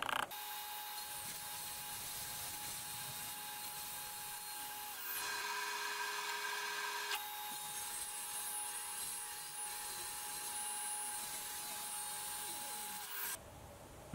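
A power saw cuts into a wooden workbench stretcher, a steady high mechanical whine with a louder stretch while the blade bites the wood, then stopping abruptly near the end, no talking.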